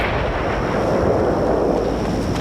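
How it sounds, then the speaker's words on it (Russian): A deep, sustained rumble roars steadily at high volume, like the drawn-out boom and roll of a large bomb explosion in a bedroom at night, with no voices. "прогремел взрыв."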